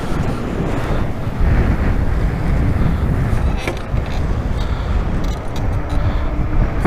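Wind blows hard and steady outdoors by open water, a loud broadband rush and buffeting against the microphone that never lets up, with no talk.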